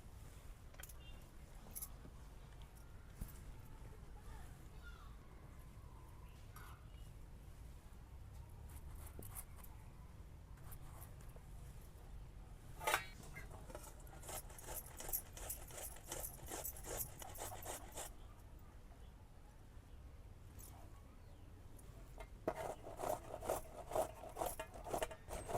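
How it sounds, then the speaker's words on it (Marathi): Tomatoes being grated by hand for egg dum biryani, a faint rhythmic rasping and rubbing that grows busier and sharper toward the end. "आता मी टमाटे किसून घेते."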